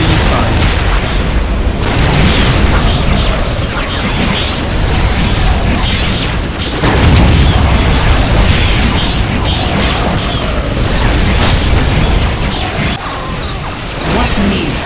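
Incoming enemy fire in the Warhammer Dark Crusade strategy game: loud, continuous booming explosions and crashing impacts roll on for about fifteen seconds, with speech underneath.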